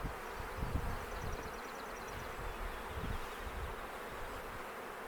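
Honey bees in a freshly caught swarm hum steadily inside a hive box at close range. The buzz is a dense, continuous drone with no talk.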